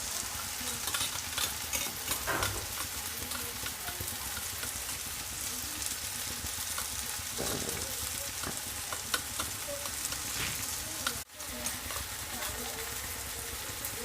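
Egg bhurji mixture is stirred and mixed in a pan, giving a busy, close texture of scraping and soft sizzling that runs steadily throughout, with a brief dip near the end.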